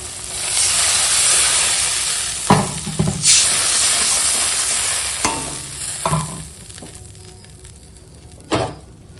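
Cooked spice masala sizzles and hisses loudly in a pan as water is poured in, with stirring clatters at intervals and the hiss fading toward the end; no one speaks.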